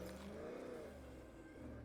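Car accelerating in the video game State of Decay 2, a steady engine drone that rises in pitch as it revs, fairly close and alone with no talk over it.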